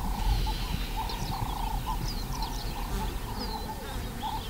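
Whiteback and griffon vultures squabbling over a carcass, with harsh squeals, hisses and chattering calls rising over a busy, constant background of rustling and jostling.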